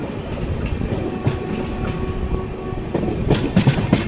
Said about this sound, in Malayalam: അപ്പുറത്ത് അപ്പ് ലൈനിൽ കൂടെ ഒരു വാപ്പ് 7 ഹോളിൽ ട്രെയിൻ കയറി വരുന്നത്